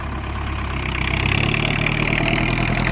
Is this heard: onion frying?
no